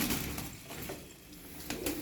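Soft coos of pigeons in a coop sound faintly against a low, steady background murmur, a few brief calls close by.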